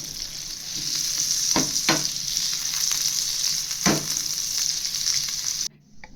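Paneer frying in melted butter in a pan, a loud steady hiss and sizzle with a few clinks of a utensil stirring, cutting off abruptly near the end.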